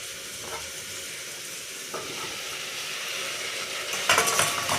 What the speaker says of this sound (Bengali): প্রেসার কুকারে কষানো হচ্ছে।